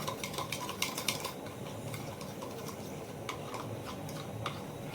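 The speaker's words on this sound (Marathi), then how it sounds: "मीठ टाकला मेयोनीज आणि ऑरेगिनो. आता आपण असं मिक्स करू." Mayonnaise with salt and oregano being stirred in a bowl, a spoon making light rapid clicking and scraping taps against the sides, quiet and close over a low background murmur.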